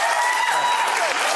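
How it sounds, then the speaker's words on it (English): Town-hall audience applauds to vote healthcare as its top issue on a live cable news broadcast, a dense, steady roar of clapping filling the whole moment, close and loud with no pause. "Applause for healthcare's top issue."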